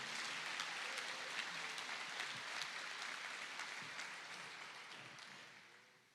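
A church congregation applauds during a Portuguese-language sermon, a fairly faint, dense patter of clapping that runs steadily and then fades out toward the end, with no talk over it.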